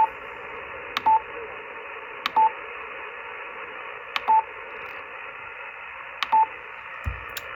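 Yaesu FTX-1 ham radio receiving a net: steady hiss and band noise with a few brief beeps or clicks spaced about every second or so, no clear voice coming through.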